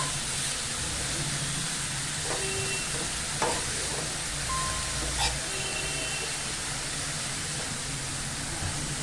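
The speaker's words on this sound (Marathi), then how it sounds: "व्यवस्थित अशी ना मिक्स करून घेऊया।" Taklyachi Bhaji, a wild monsoon leafy vegetable, stirred and mixed in a hot pan, making a soft steady sizzle and hiss with several clinks and scrapes of the spatula against the pan, no talking.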